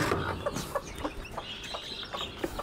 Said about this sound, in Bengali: মুরগির বাচ্চাগুলো আছে